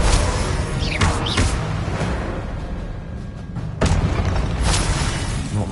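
Confringo fire spell blasts in a Hogwarts video game: loud, booming explosions with whooshing bursts, one near the start and another heavy impact around the middle, over a dense rumbling background.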